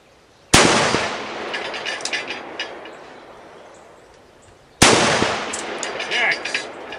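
A Magnum Research BFR revolver chambered in 450 Bushmaster fires two heavy, booming shots about four seconds apart outdoors, each with a sharp crack followed by a long rolling echo.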